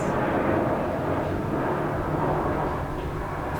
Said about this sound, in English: while we let this airplane go past